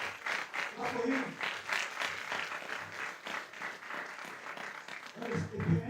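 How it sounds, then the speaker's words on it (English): An audience at an entrepreneurship talk claps in an uneven patter that stays fairly faint, with a brief swell near the end and some background voices mixed in. "Clap for him."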